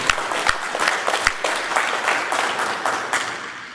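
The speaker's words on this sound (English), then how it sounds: "So, clap it up," An audience claps continuously at a motivational talk, a dense spread of hand claps with a few sharp louder claps standing out near the start, no voices over it.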